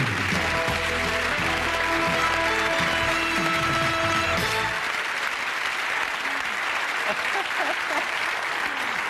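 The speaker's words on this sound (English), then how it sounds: "I don't know why you're clapping." A 1984 live television studio audience applauds loudly for about five seconds, a dense steady patter of many hands, then the clapping fades into quieter room murmur.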